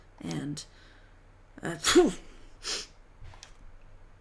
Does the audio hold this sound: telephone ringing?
no